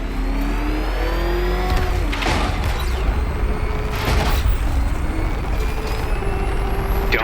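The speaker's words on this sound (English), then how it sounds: "I'm disabling the afterburner's failsafe. I need the extra speed." In Batman: Arkham Knight, the Batmobile's engine roars on afterburner, a loud sustained rumble with rising and falling whine as it accelerates, punctuated by sharp bursts and whooshes.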